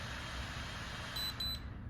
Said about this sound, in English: You hear the double beep.